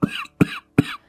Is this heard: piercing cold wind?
no